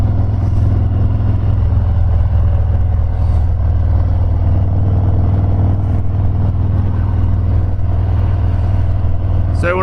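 A 2019 Harley-Davidson FXDR cruiser on the move, its engine a steady, loud low-pitched drone with rushing wind that holds evenly throughout, and no clear voices over it.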